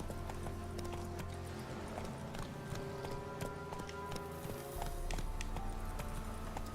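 Roach the horse gallops across open country in Witcher 3, with a steady, quick clip-clop of hooves under a faint game soundtrack and ambience throughout.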